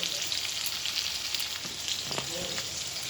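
Chopped tomato fries in a pan with a steady, close, loud sizzle and a few faint stirring knocks, with no talking.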